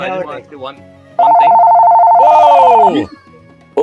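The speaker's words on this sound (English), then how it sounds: "sorry, that was my phone." A phone rings right beside an iPad, one sustained electronic ring lasting over a second, loud and close, cutting into a man's speech, with him talking before and after.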